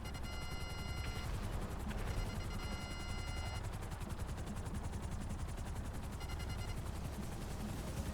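Rapid gunfire in the video game GTA V during a Cayo Perico heist prep mission, with a helicopter nearby, sounds as repeated bursts of shots over a constant rotor roar, fairly loud and dense with no talking.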